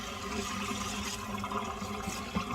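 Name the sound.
sprayer spraying cold water on a synthetic wig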